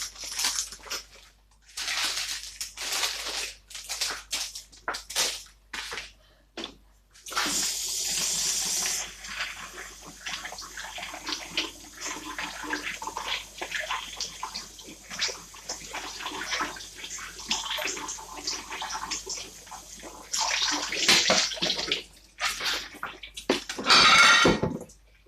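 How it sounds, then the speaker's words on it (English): Spinach being washed in water in a kitchen sink, with splashing and running tap water in irregular bursts, clattering of a colander and leaves being handled, close and fairly loud with short quiet gaps. "So the clean colander is basically to drain my spinach because I'm gonna wash it now and put it aside."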